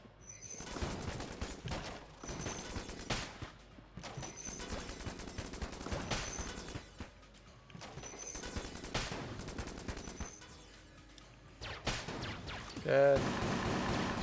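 Rapid bursts of gunfire from the video game Enter the Gungeon repeat in clusters of shots with short pauses between them, loud and punchy, with small chimes and effects mixed in.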